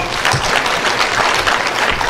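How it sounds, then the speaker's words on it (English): A brief burst of steady applause from the crowd at a memorial celebrating the late Professor Joshua Muvumba, many people clapping together without pause. "give a big clap to Joshua Muvumba"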